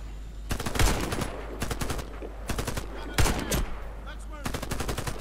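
Bursts of rapid automatic gunfire from the online shooter Warface, several loud volleys in quick succession separated by short pauses, with a voice faintly underneath.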